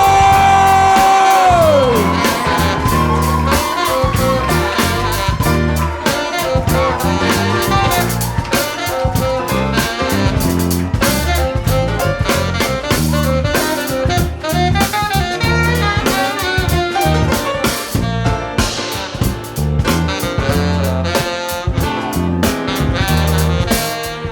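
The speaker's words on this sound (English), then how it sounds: "you need to stomp your feet, you need to clap your hand, you need to scream like you're pregnant, and you need to give a big welcome to Guy Kelton Jones!" A live jazz and spoken-word crowd cheers, whoops and claps loudly to welcome a performer, a dense, continuous roar of yells and applause filling the room throughout.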